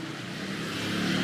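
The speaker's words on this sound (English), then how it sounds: "Traffic was a little tough." Road traffic rumbles steadily on a city drive between a grocery store and a hospital in Colombia, a low continuous engine drone with a car's wash building slightly toward the end, heard from inside or beside the van.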